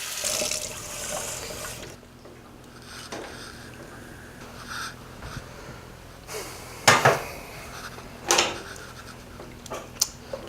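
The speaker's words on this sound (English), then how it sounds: "If it looks like that, add a little bit more water." Water runs from a tap, splashing into a pot of lentil soup with vegetables, first as a brief rushing pour, then scattered clinks and knocks of the pot and utensils in a quiet kitchen.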